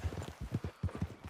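Horse hooves in a PlayStation video game clip-clopping at a steady walking rhythm, close and clear, with even paired hoof beats.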